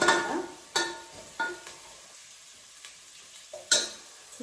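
Ingredients for a bottle gourd sambar fry in a pan, with sharp stirring scrapes and clanks breaking over a soft sizzle that fades quiet between strokes; no talking.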